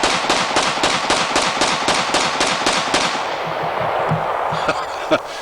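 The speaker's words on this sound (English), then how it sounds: "just to show you what a 15-shot 45 ACP looks and sounds like" A 1991 Colt .45 ACP pistol with a 15-round magazine fires a fast, evenly spaced string of about a dozen loud shots, followed by a quieter tail of echo and a few softer thumps.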